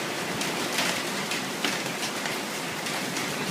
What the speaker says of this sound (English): It is hailing over here in Apopka.